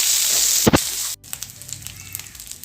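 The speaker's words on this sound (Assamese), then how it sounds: "এইখিনি অকণমান ভাজি ল'ম।" Ginger garlic paste frying in a pan for an Assamese tomato fish gravy: a loud, dense sizzle that cuts off abruptly partway, followed by softer crackling and light stirring.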